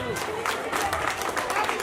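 Audience applause at a formal event honoring an LIC assistant branch manager, a steady wash of clapping from a crowd with faint murmuring underneath, continuous for a couple of seconds.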